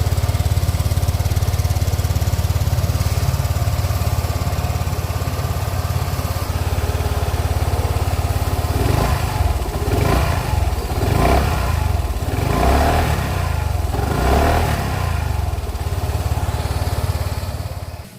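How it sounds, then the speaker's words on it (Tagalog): A 2024 FKM Slick400 maxi scooter with its stock exhaust muffler idles steadily, then gives several rhythmic throttle blips from about halfway through, loud and close. "ang ating exhaust sound stock muffler pa yan"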